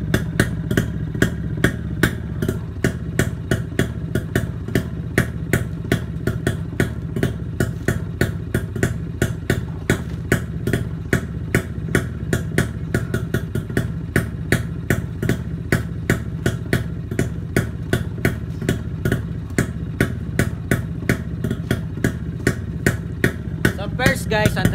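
A Kawasaki Brutus motorcycle idles with a local aftermarket silencer, its engine running in an even, loud, close chugging rhythm that holds steady throughout.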